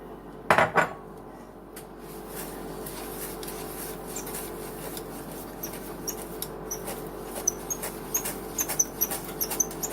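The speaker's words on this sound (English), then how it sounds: "Now you're going to sift this into the chocolate butter mix" Granulated sugar sifted into a chocolate butter mixture, heard as close, soft rustling and light metallic ticks and taps of a sieve against a bowl, irregular and quiet, after a brief clatter at the start.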